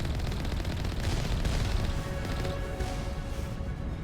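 Geth turrets open fire in the Mass Effect game, a steady stream of rapid, rattling shots and impacts, dense and continuous, with occasional heavier bursts near the listener.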